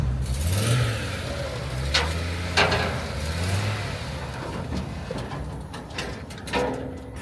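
Audi Quattro engine revving up and settling in a nearby car, with rising and falling pitch, a few sharp knocks and clunks over a steady idle.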